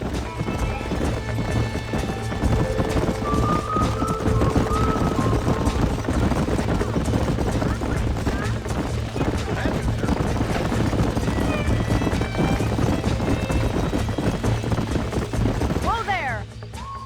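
Horses gallop with steady, loud clip-clop hoofbeats in the Western video game Red Dead Redemption, with a neigh near the end and talk in between.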